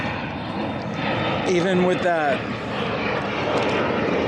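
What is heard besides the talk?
airplane flying over near the airport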